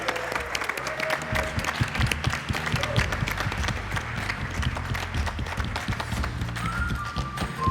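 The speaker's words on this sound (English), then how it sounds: "A big round of applause to Journey." Audience at a summit pitch contest applauding the winner, loud close clapping from many hands with a few voices and cheers mixed in.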